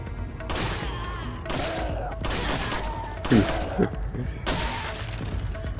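Gunfire in the Resident Evil 4 video game, Separate Ways mode: a few sharp shots and thuds stand out over a dense, busy game mix, with voices talking throughout.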